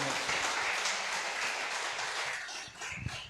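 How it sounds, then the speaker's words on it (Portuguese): A church congregation claps loudly in praise, a thick sustained burst of many hands that slowly thins toward the end, with a few scattered louder claps trailing off. "Vamos aplaudir Jesus bem forte?"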